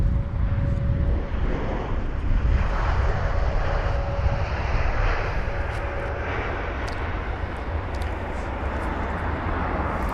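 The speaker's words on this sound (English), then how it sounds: "So the British Airways A319, sorry, from Edinburgh, a 1 hour long journey, BA1433 flight number." A British Airways Airbus A319 arriving at London Heathrow from Edinburgh gives a loud, sustained jet roar throughout, steady and close, with no speech.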